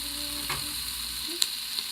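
Onions sautéing in an Instant Pot, a soft, steady sizzle close by, with a couple of faint stirring taps over the short stretch and no talking.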